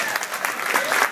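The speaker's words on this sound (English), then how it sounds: "I think that deserves a round of applause." A short burst of steady audience applause at a PechaKucha Night presentation in Cleveland, even and sustained through the whole moment.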